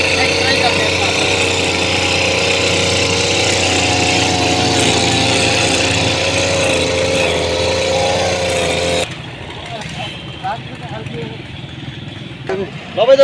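A lawn mower at a garden nursery runs with a loud, steady engine drone for about nine seconds, then cuts out, leaving quieter background sounds and a few scattered noises.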